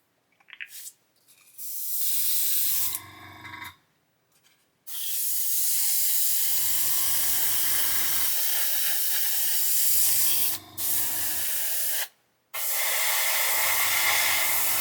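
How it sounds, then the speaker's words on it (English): An airbrush blows air through its nozzle in several long, loud, steady hissing bursts, separated by short pauses and faint low tones between them. "I'm just going to blow through the nozzle."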